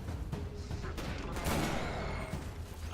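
Sniper rifle fire in the video game Destiny, dense sharp blasts layered over a continuous roar of game combat, with a louder burst about halfway through.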